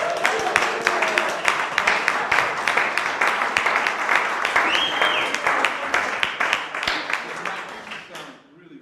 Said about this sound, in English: give a warm round of applause, everybody please